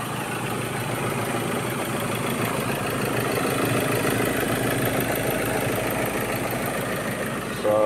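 A Ford Everest engine idles after an intake manifold cleaning, running a steady, even rumble up close, loud and unbroken throughout, with a small change at the very end.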